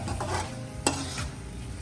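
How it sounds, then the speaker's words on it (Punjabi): Brief, quiet sizzling of spices frying in a pan, with a single sharp scrape of a spoon stirring partway through. "ਤੜਕਾ ਜਿਹਦਾ ਜਿਹਦਾ ਭੁੱਜ ਰਿਹਾ ਹੈ ਨਾ"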